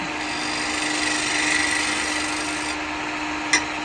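A woodturning tool cuts a tenon on wood spinning on a lathe while a cowboy hat is being turned, a steady close-up scraping hiss that runs unbroken and ends with a small knock.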